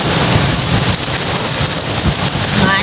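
Heavy rain pouring steadily during a thunderstorm, a loud dense hiss of drops on surfaces with no pause, close and enveloping throughout.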